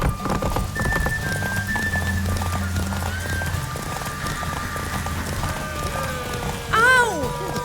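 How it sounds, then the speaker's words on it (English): Horse hooves clip-clop at a steady gallop in The Witcher 3, continuous and close, with game voices and music over the top and a brief whinny near the end. "Run, Roach"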